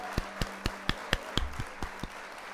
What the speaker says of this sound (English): Gifted, and Sandra's got a subscription with the old applause there.